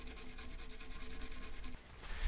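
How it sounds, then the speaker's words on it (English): A small brush scrubs crusty grime out of a screw hole on an old rifle, giving a close, continuous bristly rubbing with quick repeated strokes that stops abruptly near the end. "Brush it out with the brush."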